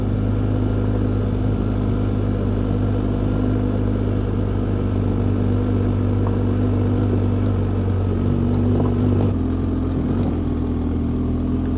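A motorcycle with a nearly worn-out rear tire climbs a wet gravel road in Ohio, its engine droning steadily and loudly throughout, with a slight shift in pitch near the end and no speech.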